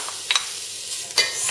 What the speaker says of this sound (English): Give them a little bit of a stir with it all.